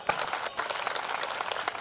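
A crowd applauds throughout at an open-air folk ballad show during a Jai Bhim festival in Beed, with a sharp clap at the start followed by thick, sustained clapping from many people.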